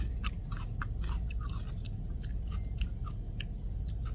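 Crunchy chewing of fresh sour plums picked straight from the tree in South Korea, close-up repeated crisp bites and munching without any talking.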